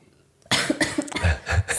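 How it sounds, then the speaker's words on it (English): A person coughs in a quick burst of several harsh, close coughs after a brief quiet pause, loud and clear with no talk over them. "Cough break."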